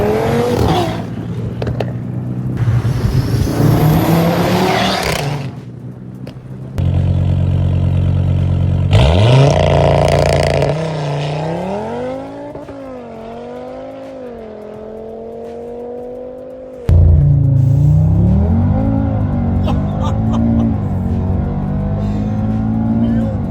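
An Audi RS3 with a 2.5-litre five-cylinder engine and Stage 2 tune accelerates hard, its loud engine note climbing through the gears with rising pitch, brief shift gaps and a surging roar, with some talk between bursts.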